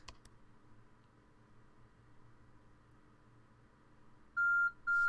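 A timer beep in the Solace Crafting video game sounds near the end as two loud, steady electronic tones, one after the other, following a stretch of quiet low hum.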